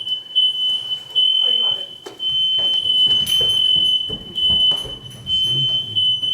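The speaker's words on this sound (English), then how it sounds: "you started speaking in the fire alarm." A smoke-type fire alarm goes off at an outdoor devotional gathering, a steady high piercing beep held throughout, loud and constant, while people talk and move about beneath it.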